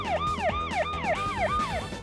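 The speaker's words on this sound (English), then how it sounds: "the siren that sounds in the movie is a modern electrical siren" A modern electrical ambulance siren wails in a fast, repeating up-and-down sweep, four cycles in two seconds, loud and close with a faint vehicle rumble beneath.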